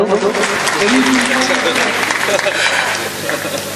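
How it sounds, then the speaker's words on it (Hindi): Loud, sustained applause from the audience at a mushaira poetry gathering in Nakodar, Punjab, filling the hall for a few seconds with dense clapping and some talk mixed in. "तो एक बार आप जोरदार तालियां बजा दीजिए"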